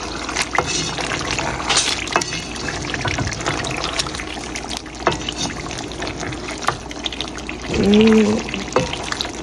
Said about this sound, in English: I'm gonna add about a half cup of water so I could get some gravy.